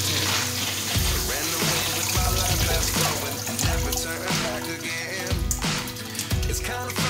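Water pours continuously from a broken flushometer in a men's restaurant restroom, a loud steady rush with repeated gurgling surges about once per second.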